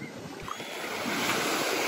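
Sea waves wash gently at the shore of a calm beach in El Nido, Palawan, a soft continuous surf hiss with light wind, faint and close, with no voices.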